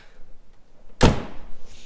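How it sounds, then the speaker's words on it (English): The door of an old Range Rover is pulled open with one sharp metallic clunk in an otherwise quiet space, followed by a brief rattling tail. "Doors are a bit of a pig to open, as are a lot of old Range Rovers."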